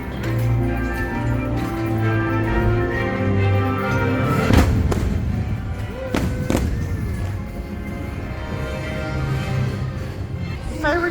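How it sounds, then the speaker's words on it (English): Fireworks bursting during a Disney Christmas party, sharp booms near the middle standing out from a steady crowd and music wash across the whole stretch. "Fireworks started right as we got off the Pooh ride"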